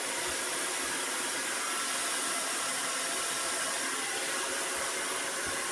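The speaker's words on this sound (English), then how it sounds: "Taking my comb and my blow dryer to smooth this down" Constant roar of a hair dryer blowing nearby, used with a comb to smooth a man's hair during a haircut, steady and unbroken for several seconds with no talking.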